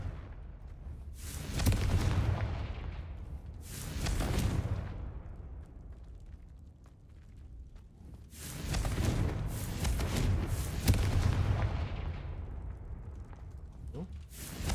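Confringo blasting spell from Hogwarts Legacy, the video game, going off in two loud rumbling bursts of explosions with heavy low boom and crackling debris, separated by a quieter lull.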